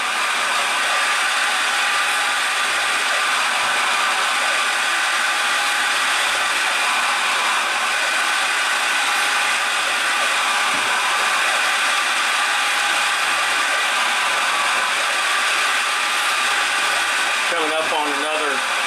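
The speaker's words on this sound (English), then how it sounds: "this is actually a boring operation with a quarter inch end mill" A CNC mill bores a 9/32 hole with a quarter inch end mill, coolant running, making a continuous high, hissing whine that stays steady and loud, with a brief shift near the end.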